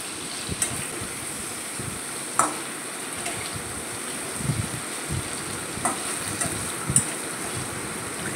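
Vegetables sautéing in a pan with salt and turmeric for a Bengali niramish dish, a steady soft sizzle with occasional stirring scrapes and clinks, close and continuous with no talking.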